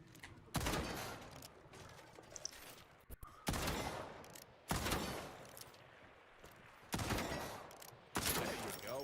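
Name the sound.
gunshots from a weapon in a video game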